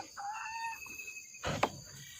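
Chickens in a backyard coop give a few brief, moderately near calls and clucks. They are followed by a short burst of rustling and scuffling inside the coop, with no talking over them.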